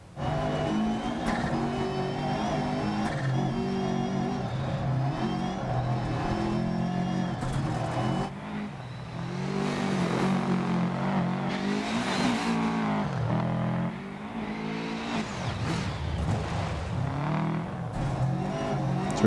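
A rally car in DiRT Rally, its engine roaring loud and close as it revs, shifts and surges over crests and jumps, pitch climbing and dropping repeatedly, with tires scrabbling on the road surface.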